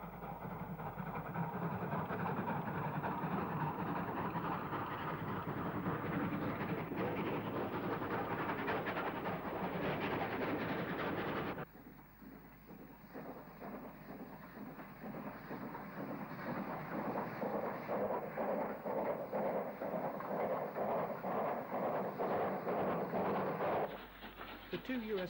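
An unrebuilt Southern Railway Pacific steam locomotive heading for Southampton docks, with a loud, sustained rumble and rapid chuffing that drops briefly and then builds again, close by with wind buffeting the microphone.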